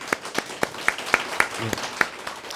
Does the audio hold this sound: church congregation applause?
yes